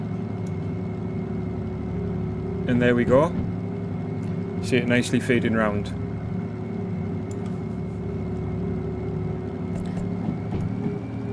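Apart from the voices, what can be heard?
diesel locomotive engine powering up in Derail Valley video game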